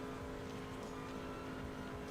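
Pace car engine on an IndyCar pace lap in the iRacing game, a steady faint engine whine with a sustained tonal hum over a rumbling bed, constant and without voices.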